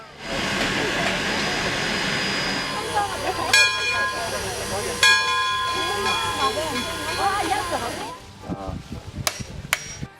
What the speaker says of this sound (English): ride the steam engine trains